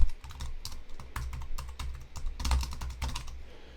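Rapid typing on a computer keyboard, with dense and uneven clusters of close, crisp key clicks running throughout and a low background hum underneath.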